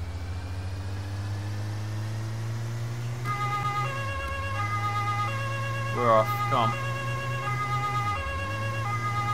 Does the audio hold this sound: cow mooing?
no